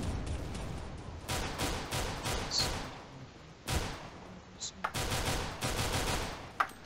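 Rapid automatic gunfire in CS:GO, sustained bursts with brief pauses and sharp single shots, loud and close, ending as the weapon runs dry.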